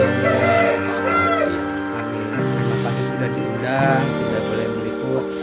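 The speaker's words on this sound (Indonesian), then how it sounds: "ayam ketawanya punya Kusita" An Ayam Ketawa laughing chicken rooster crows in long, drawn-out, warbling calls that rise and fall, loud and close, with other birds faintly in the background.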